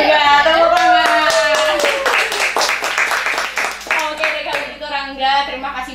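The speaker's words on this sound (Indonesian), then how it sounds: "Tepuk tangan." A small podcast group claps their hands at the close of an episode, with brisk clapping blended with voices and laughter close up.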